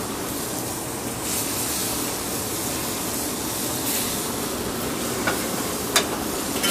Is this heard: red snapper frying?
yes